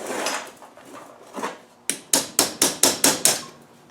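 Hammer tapping a small punch on an Adwest Lightweight steering box during a strip-down, a few softer scraping knocks followed by a rapid run of seven sharp, close metallic taps.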